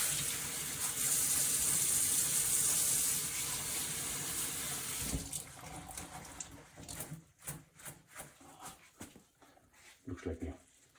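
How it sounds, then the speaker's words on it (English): Water from a tap rinses a MonsterMesh brewing filter bag that was left dry with oak chips, a steady loud rush for about five seconds, then broken splashing and dripping as the flow stops. "I'm gonna rinse it and we'll see how it looks like after"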